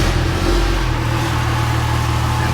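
A diesel burnout truck engine rumbles loudly close by, a dense low roar with a brief rev swell early on before settling into a steady, heavy idle.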